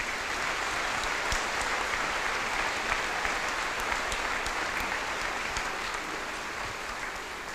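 A university commencement audience applauds steadily to welcome Senator Eric Schmitt back to campus, a dense, even wash of clapping from a large crowd that holds throughout and fades only slightly toward the end.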